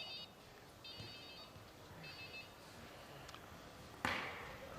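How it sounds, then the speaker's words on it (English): A mobile phone rings during a professional squash match in 2003, giving three short electronic trilling bursts that sound faint and distant in the hall ambience. A sharp racket or ball impact follows near the end. "There's the promoter's mobile phone going off."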